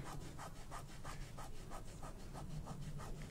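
Wet paint is rubbed off a mixed-media sea picture with rhythmic back-and-forth strokes, about a dozen soft, scratchy rubs in steady succession, close and fairly quiet.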